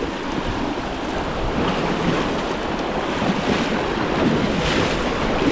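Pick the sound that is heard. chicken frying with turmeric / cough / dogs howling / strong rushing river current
strong rushing river current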